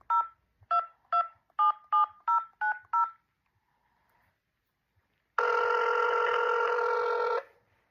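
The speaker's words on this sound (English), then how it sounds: "Using your keypad, please enter the 10-digit telephone number, including area code" Touch-tone telephone keypad dialing: a quick run of eight crisp, evenly spaced DTMF beeps, followed after a short pause by one long, loud sustained tone, all clean and alone with no voices.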